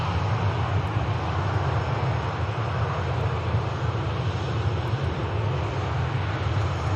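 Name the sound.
Saudia Boeing 787 Dreamliner jet departing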